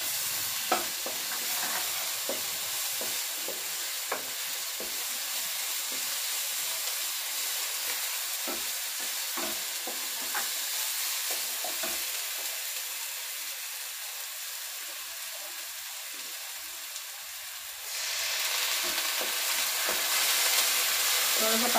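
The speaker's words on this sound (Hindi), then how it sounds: "इसमें लहसुन अदरक का पेस्ट डाल लेते हैं।" Sliced onion with garlic ginger paste frying in hot oil, a steady sizzle and hiss with repeated clinks and scrapes of stirring, growing louder toward the end.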